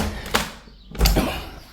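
An old traditional Spanish wooden door on a village house terrace is handled, giving a knock, then a heavier thud and scraping as it is pushed open, close and fairly loud.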